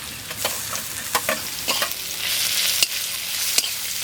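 Softened onions frying in a pan as garlic paste is added, a constant sizzle broken by several sharp stirring scrapes and clicks, close and without talk.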